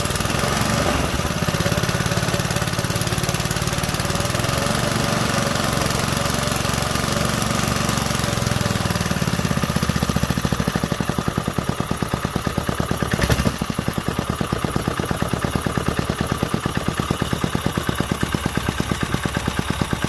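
A 1968 Briggs and Stratton 2.25hp small engine with a quiet muffler runs steadily nearby, a continuous chugging hum that settles into a faster, rhythmic firing pulse partway through.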